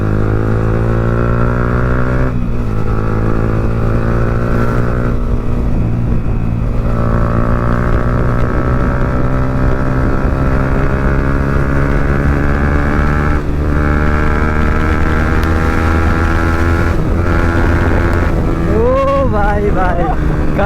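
A Yamaha MT-15 motorcycle with a loud aftermarket exhaust roars while riding, holding a steady, rising engine note through the gears, with wind noise and a downshift blip near the end, and a rider's voice briefly over it.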